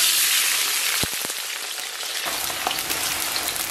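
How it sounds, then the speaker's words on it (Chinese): Chopped scallion and ginger hit hot oil in a pot and sizzle with a bright, hissing crackle, a couple of sharp pops and a stirring clatter, then settle into a steady, moderately loud fry with no talking. "咱们给锅里边稍微来点油，油温2-3成热啊，咱把提前切好的葱姜下到锅中，"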